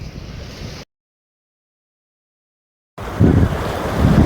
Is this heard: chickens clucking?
no